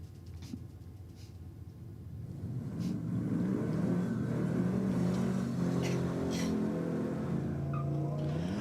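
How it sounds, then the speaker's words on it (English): A Holden VF Commodore does a burnout at a drag racing event, its V8 engine rising from a rumble into a loud sustained high-revving howl that holds steady, with crowd noise underneath. "Nice strong burnout from the VF Commodore."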